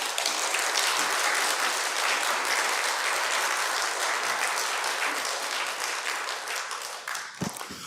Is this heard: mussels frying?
no